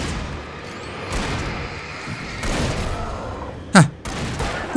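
Gunfire in the video game Alan Wake: muffled thumps and pops scattered through a dim background, then one sharp, loud shot near the end.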